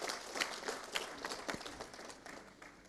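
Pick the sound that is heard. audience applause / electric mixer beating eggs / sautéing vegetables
audience applause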